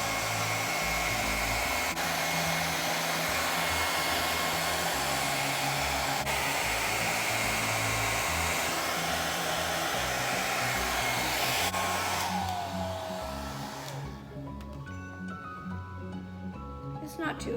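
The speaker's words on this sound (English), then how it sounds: "I'm going to try using a hairdryer." A hair dryer blows steadily on high for several seconds, loud and close, then switches off and its whine winds down.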